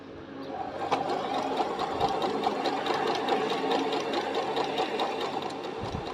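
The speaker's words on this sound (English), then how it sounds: "Get to the end of that little seam and reverse stitch there as well." A sewing machine stitching a zip seam and then reverse stitching, a steady, fast mechanical whirring and rapid needle ticking running continuously and close, with a brief thump at the end as it stops.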